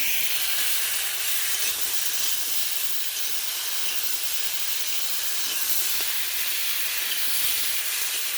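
Potatoes hit hot oil in a pan after cauliflower has been fried, producing a broad, constant hiss of sizzling that holds steady throughout, close and without talk.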